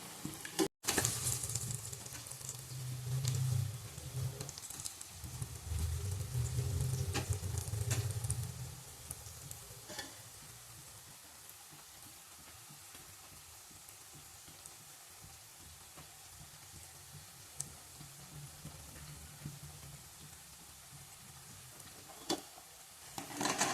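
Onion tikki cutlets fry in hot oil in a pan and are turned now and then. A steady soft sizzle runs throughout, with a louder stirring or flipping stretch early on and a few light clicks later.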